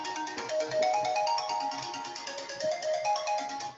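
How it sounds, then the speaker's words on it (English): A phone rings with a melodic electronic ringtone, repeating its tune steadily for a few seconds at moderate loudness indoors, with no voices over it. "so that was the phone."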